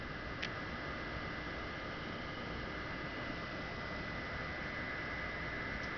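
A dehumidifier runs alone with a low, steady hum and broadband whir, constant and quiet throughout with no talking.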